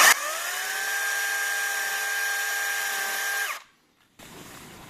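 A chainsaw used for cutting trees runs at a steady high, whining pitch for several seconds, close and loud, then cuts off abruptly into silence before a rougher noise starts again.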